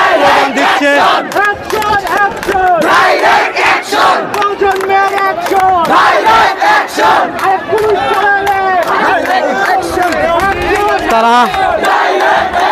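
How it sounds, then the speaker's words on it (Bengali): A large crowd of students chants protest slogans in unison. The rhythmic shouting is loud and continuous, with voices rising and falling together in repeated bursts. "সাধারণ ছাত্ররা স্লোগান দিচ্ছে"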